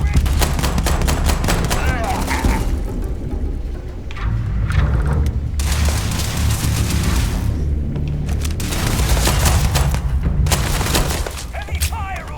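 Repeated gunfire in Starfield as enemies are shot in the legs, loud booming shots and rapid bursts packed together at close range, with a person talking over the shooting.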